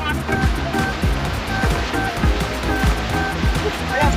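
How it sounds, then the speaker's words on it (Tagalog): Loud, rushing surf churns continuously close by, with thumping water sounds and a faint engine hum underneath. "Ang lakas ng alon."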